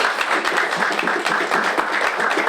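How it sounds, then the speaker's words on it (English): An audience at a poetry reading night applauds a poet, a dense continuous round of clapping from many hands filling the room with no voices. "One more round of applause for Celeste."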